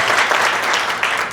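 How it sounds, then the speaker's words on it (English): Loud, close audience applause at a women's summit in Edmonton, a thick burst of many hands clapping steadily without a break. "Give a huge round of applause to all of our incredible speakers"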